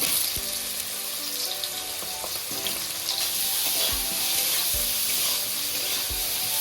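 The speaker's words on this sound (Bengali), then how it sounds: "বেগুনটাকে ভেজে নিচ্ছি" Brinjal frying in hot oil in a pan gives a steady, close, bright sizzle that runs throughout, with a few soft knocks and stirring sounds and no talking.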